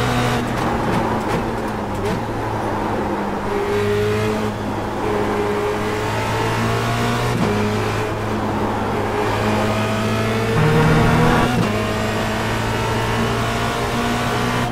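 A Formula Renault 2.0 race car in the iRacing sim drones steadily around Spa, its engine note holding loud and close, with shifts in pitch as it changes gear and accelerates.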